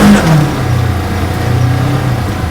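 Engine of a Polaris General utility vehicle pulling away under load, a loud, close, steady mid-pitched drone with a rising tone at the start.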